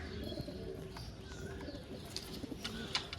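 Domestic flying pigeons kept for sale coo in low, repeated throaty pulses close by, with a few faint chirps over a steady background hum and no talking.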